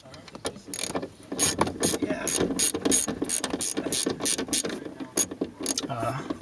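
A ratcheting screwdriver with a Torx T20 bit backs a screw out of an interior pillar trim on a BMW E46 330ci, rapid clicking ratchet strokes in irregular bursts, close and distinct without talking.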